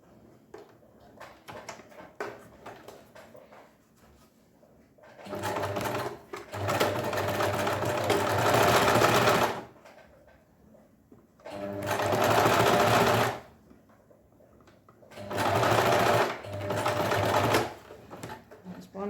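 A sewing machine on a straight stitch at length 3 sews a sleeve seam in three separate bursts of rapid, close-up whirring, with quiet pauses between runs and faint handling noise in the gaps.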